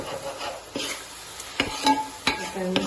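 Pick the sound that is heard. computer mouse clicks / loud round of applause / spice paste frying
spice paste frying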